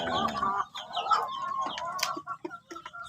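Decal white chickens cluck and chirp in short, scattered calls at feeding time, close by, with soft rustling between the calls.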